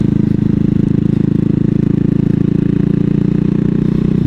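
A single-cylinder CCM Spitfire bobber motorcycle engine thuds loudly and evenly while riding, a steady low pulsing throb holding a constant pace.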